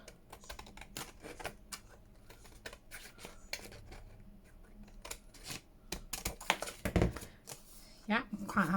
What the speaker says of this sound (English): So I'll just get my scissors and cut down it.